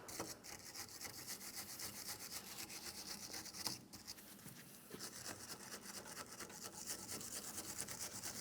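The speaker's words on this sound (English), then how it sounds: "For now, I'm just going to use some penetrant and a wire brush." A wire brush scrubs the idler arm bracket of a 2007-2014 GMC Sierra 2500 HD after penetrant is applied, producing continuous rapid raspy strokes, close and fairly quiet, with a brief pause midway.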